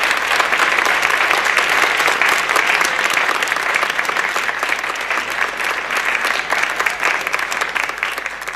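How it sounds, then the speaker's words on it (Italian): Loud, dense studio audience applause on an Italian television special, steady crowd clapping sustained from start to finish. "vogliamo salutarli con un applauso"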